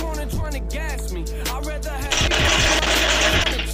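Rapid bursts of automatic gunfire in a Fortnite squad match, loud and close, crackling in quick repeated volleys over a steady hum of game ambience.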